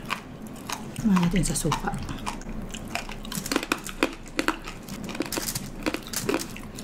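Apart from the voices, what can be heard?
crunchy lechon pork skin being chewed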